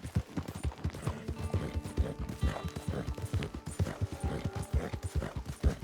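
Horse hooves pound in a quick, even galloping rhythm in Red Dead Online, near and steady throughout, with faint tack and gear sounds mixed in.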